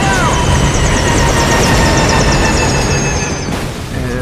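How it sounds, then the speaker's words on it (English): A helicopter going down under fire in Metal Gear Solid V: Ground Zeroes, a loud, dense roar of rotor and engine noise with whining tones and a sudden sharp shift near the end. "it looks like our chopper is going down"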